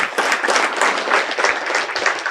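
An audience at a Telugu motivational lecture claps loudly together, a dense and steady burst of applause that fills the whole stretch with no pauses.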